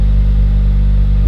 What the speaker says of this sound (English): All right, cold start. Spoon N1 exhaust.